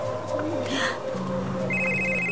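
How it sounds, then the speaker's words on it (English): A mobile phone ringtone goes off nearby, a steady electronic melody that starts partway through and rings on continuously, with people talking over and around it in a domestic scene. "Is that your phone?"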